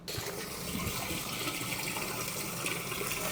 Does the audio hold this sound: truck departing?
no